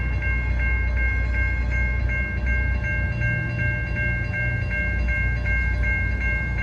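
A long CSX freight train of 152 cars with three locomotives and two mid-train DPUs rumbles steadily past, running down a street, while a crossing bell rings in a fast, regular rhythm throughout.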